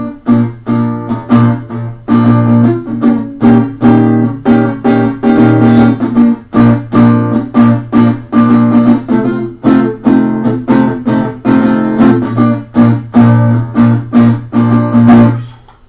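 Guitar strummed in bar-chord shapes through a bridge-section rhythm, steady repeated strokes filling the whole stretch, close and loud, without palm damping and with no talking.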